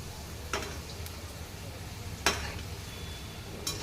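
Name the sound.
modak dumplings frying in a pan on high gas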